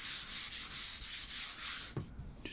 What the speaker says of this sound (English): give it a light rub